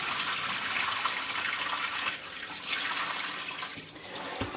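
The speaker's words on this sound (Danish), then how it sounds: "Så hælder jeg simpelthen vandet fra." Water poured off washed raw wool in a steady, rushing, splashing stream, loud and close, without talk.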